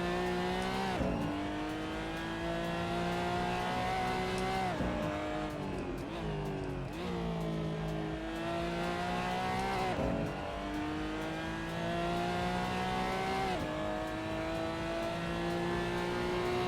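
Race cars in the RaceRoom racing game roar through repeated shifts, engine notes climbing and dropping in a steady cycle with occasional tire squeal, loud and continuous without talking.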